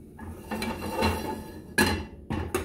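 A frying pan holding sauce with dried shredded beef is shifted across the stove, a few scraping clanks and knocks of metal in quick succession, close and fairly loud.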